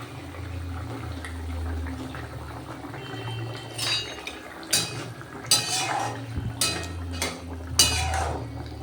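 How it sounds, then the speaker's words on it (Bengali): Fish curry broth bubbles in a pot on the stove under a low hum, then fried fish pieces go in with a few sharp splashes and clatters. "টকবক টকবক করে ঝোলটা ফুটছে তো এবার আমি এর মধ্যে অ্যাড করে দেবো ভাজা মাছগুলো"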